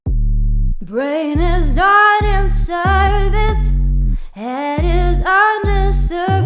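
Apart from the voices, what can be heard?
vocal sample without Sound Doctor plugin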